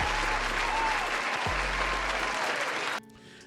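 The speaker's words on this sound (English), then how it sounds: "I also want to give another round of applause for none other than" A crowd gives a steady, dense round of applause for about three seconds, then it cuts off abruptly.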